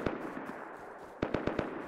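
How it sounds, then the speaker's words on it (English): Gunfire in the video game Rust: a single shot, then a quick burst of four sharp shots in rapid succession, crisp and fairly near over a soft background hiss. "I just hear fucking gunfire constantly"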